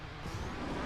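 A car drifting in a racing video game, with a dense, continuous engine roar and tire noise, loud and steady through a brief moment with no talk.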